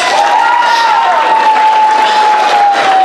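A school transition-year variety show audience applauds, dense loud clapping and crowd noise filling the hall, with a sustained tone running underneath.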